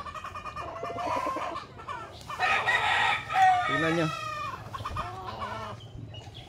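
Large fighting roosters and chickens on a small poultry farm cluck and crow in a busy, overlapping mix, loud and close, with a brief spoken remark over the birds.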